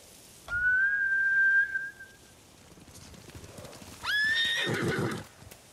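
Horses whinny twice in a Ghost of Tsushima battle scene. A long, high neigh rings out first and a second shrill whinny follows a few seconds later, with faint hoof clatter between them.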